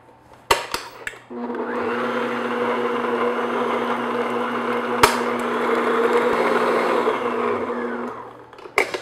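An electric mixer beats an egg yolk into chocolate chip sandwich cookie dough, a steady, close whirring motor hum that runs for about seven seconds between a few sharp knocks against the bowl, with no talking.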